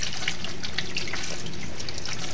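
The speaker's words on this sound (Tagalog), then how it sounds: "Lagyan ng tubig" Cold water pours into a cooking pot while spaghetti is prepared, a continuous close splashing rush with bright bubbly gurgles, steady and loud throughout.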